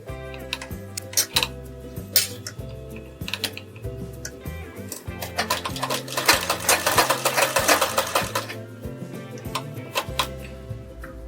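A sewing machine stitches a blouse sleeve lining in short rhythmic bursts of clattering, the needle ticking in quick repeated runs that grow busier midway.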